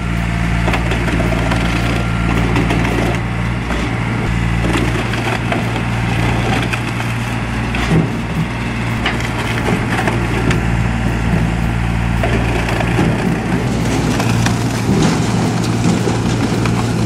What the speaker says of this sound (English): Splitting these large logs into beautiful pieces of firewood in the white snow